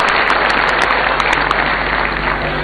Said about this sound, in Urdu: آئیے تالیوں سے ہم ان کا استقبال کریں گے